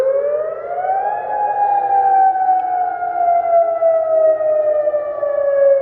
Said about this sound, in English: they have to do air raid sirens to make you get back in your house